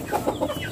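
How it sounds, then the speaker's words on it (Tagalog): Brief soft clucks from backyard chickens in a coop, a few short murmuring calls, close and moderately quiet. "uhaw na uhaw din yung ating mga alagang manok dito"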